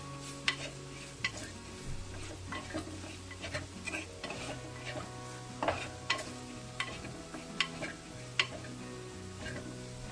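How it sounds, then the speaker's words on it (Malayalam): Masala spices sauté in a pan over a low flame for Kerala karimeen pollichathu, with a steady soft sizzle and repeated scraping and clinking of a stirring spoon against the pan. "ഈ പച്ചമണം മാറുന്ന വരെ ഒന്ന് വഴറ്റിയെടുക്കുക."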